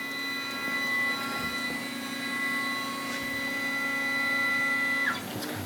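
A CNC torch cutting machine hums and whines steadily as it travels into position, a constant mechanical drone with tonal whine, ending in a short shift in pitch; nobody talks.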